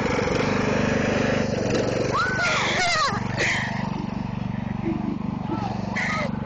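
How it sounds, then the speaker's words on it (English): A riding lawn mower engine runs with a steady low rumbling drone throughout, close and loud, while voices speak briefly over it partway through. "Start up the engine"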